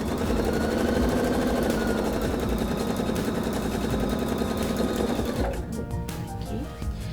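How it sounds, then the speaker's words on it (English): A sewing machine stitches a quarter-inch seam along the sides of a tote bag, running as a fast continuous mechanical chatter close up for over five seconds before slowing and stopping. "And then we're just going to use our sewing machine, and we're just going to run 1/4 of an inch seam allowance along the 3 sides."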